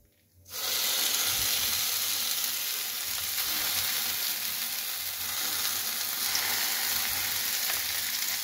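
Giant taro (mankochu) paste hits hot oil for bharta and at once sets off a loud, steady sizzle. The frying hiss is close and continuous, with faint stirring beneath it.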